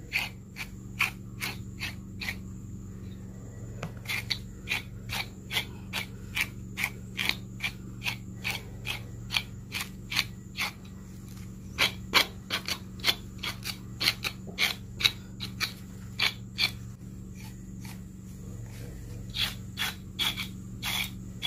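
A bruised coconut husk is brushed and raked by hand to pull loose fibres for cocopeat, making a long run of regular scratchy strokes, close and steady over a low background hum, with no voices.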